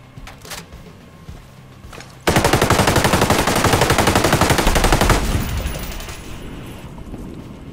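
Automatic gunfire bursts from a weapon in Ghost Recon, a loud rapid stream of close shots lasting about three seconds before tapering into echoing tails, preceded by scattered softer clicks and movement.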